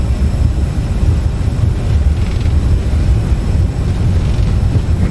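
CRJ 1000 jet engines at takeoff power in X-Plane 12, a steady loud low roar and rumble filling the cabin without letup.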